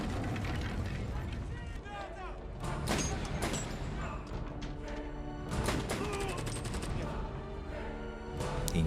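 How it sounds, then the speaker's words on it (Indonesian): Gunfire bursts, clattering weapon mechanisms and crashes ring out in a shootout from the action film Salt, dense and chaotic, with a voice narrating over it. "Salt pun mengambil beberapa senjata dan granat dan membantai seluruh anak buah Orlov"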